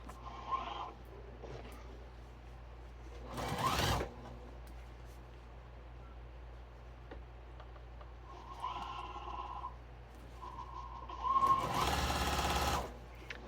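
A sewing machine stitches a flat felled crotch seam in jeans, heard as a few short bursts of rapid mechanical clatter with quiet pauses between them, close and fairly loud.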